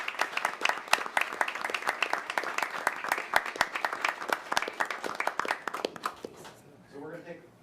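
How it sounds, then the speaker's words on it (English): Applause at a city council meeting: a dense burst of clapping from the room that runs for several seconds, then thins and fades as a voice begins speaking near the end. "let's give them a round of applause"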